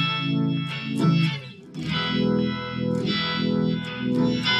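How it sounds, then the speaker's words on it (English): A faux organ tone from an Eterna guitar effects pedal, heard as sustained, swirling chorded guitar with a shimmering, wavering modulation and distortion, playing continuously with one brief dip, no talking. "here's my organ sound."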